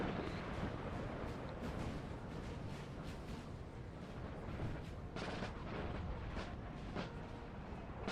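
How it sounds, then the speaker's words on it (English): Artillery fire in a Napoleonic battle in Napoleon: Total War, a dense, continuous rumble of distant cannon booms and musketry rolling steadily with periodic sharper reports, no voices over it. "there's some artillery really taking out Rheinbund's infantry."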